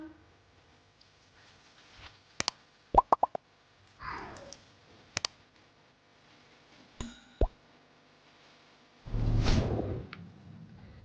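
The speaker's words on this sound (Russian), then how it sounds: "Заливаю рассолом холодным." Cold brine poured over vegetables packed in a jar for fermenting: scattered plops and clinks of glass, then a steady close gush of pouring liquid near the end.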